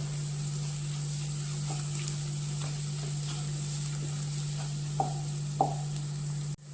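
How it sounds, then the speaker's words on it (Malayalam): Turmeric, black pepper powder and garam masala fry quietly with softened onions in a pan for a mushroom pepper roast, with faint intermittent stirring clicks over a low sizzle and a steady electrical hum. "മഞ്ഞൾപ്പൊടി, കുരുമുളക് പൊടി, ഗരം മസാല നന്നായി ഇളക്കി കൊടുക്കുക."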